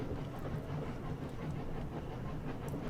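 A train in the game 80 Days rolls slowly and steadily across the Russian countryside, a continuous low rumble with faint rhythmic clatter, steady and unbroken with no voices.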